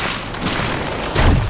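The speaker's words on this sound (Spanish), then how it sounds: "el disparo también tiene dos tipos" A ranged weapon shot fires in the video game Dolmen, a brief muffled burst near the end following a faint earlier pop, with no other sounds around it.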